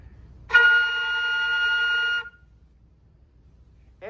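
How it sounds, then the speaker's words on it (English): A flute holds a single high note for under two seconds, clear and close, alone, with a brief voice starting at the very end. "And a high note on the flute sounds like this."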